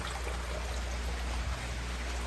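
Water dropping and trickling from an elevated filter of sand, gravel and Japanese matting into a crayfish pond, a steady broadband splashing wash held evenly throughout with no voices.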